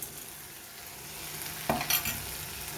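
Ground spices and garlic frying in a pan, a low steady sizzle that stays quiet, then a brief louder burst of scraping near the end as a spoon works through the mixture.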